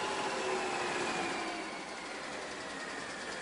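A car engine runs steadily at close range, a continuous mechanical hum that stays even and fairly loud throughout while its alternator current is being measured, with no voices.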